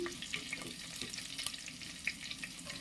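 Chopped garlic with cumin frying in oil, giving a steady soft sizzle with faint crackles and a few light stirring clicks throughout, close and alone without any voices.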